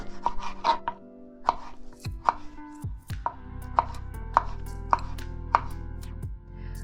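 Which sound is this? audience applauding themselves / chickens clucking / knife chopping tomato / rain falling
knife chopping tomato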